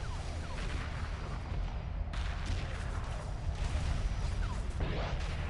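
A carrier being destroyed in a space battle in Homeworld Remastered: dense, continuous rumbling explosions and crashing impacts, with bursts of weapon fire layered throughout and no break in the din.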